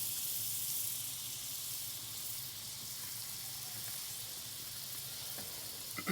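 Butter sizzling on a flat-top Blackstone griddle, a steady soft hiss running evenly throughout, fairly quiet, with a small clatter near the end.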